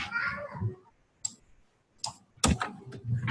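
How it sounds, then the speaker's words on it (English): A computer mouse click on a Finish button, followed by a few more sharp clicks spaced apart in a quiet room, with faint speech at the start. "Click on finish."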